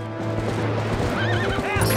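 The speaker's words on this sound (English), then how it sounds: "Just drop a phantom horse directly on Link every 30 seconds." A horse neighs loudly in The Legend of Zelda: Twilight Princess HD video game, a wavering whinny rising late in the clip over steady hoof clops and game sounds.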